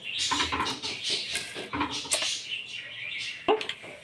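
Mustard seeds dropped into hot oil in a pan while cooking chicken chukka, giving quick sizzling crackles and light clatter from the pan, with a few sharper pops; talk can be heard nearby.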